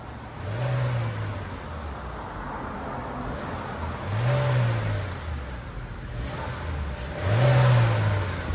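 2020 Chevy Malibu 1.5L turbo with stock exhaust revs three times, each a brief smooth rise and fall of a quiet, muted engine idling in between, recorded close outdoors.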